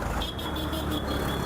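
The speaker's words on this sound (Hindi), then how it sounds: "रोड क्रॉस करने के लिए भी it's not that easy because of the traffic." Busy road traffic in Kathmandu, a continuous wash of car and truck engines with a faint high beep running through, moderately distant and without voices.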